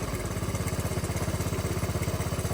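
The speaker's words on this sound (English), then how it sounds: "All right, that's a full turn. Sounding good on idle." A dirt bike engine idles close by after an air/fuel screw adjustment, holding a steady, even putter with a rapid, regular pulse and no voices.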